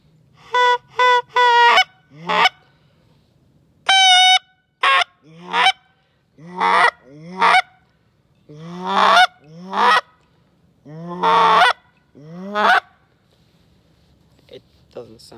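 A hand-blown goose call with a faulty reed gives a string of loud, close honks in uneven bursts, some short and clipped, others drawn out and breaking, with brief pauses between.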